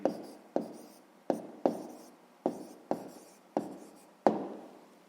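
A pen writes an answer on paper in eight short, distinct strokes, each a soft scratch that fades out, spaced unevenly and heard close up in quiet.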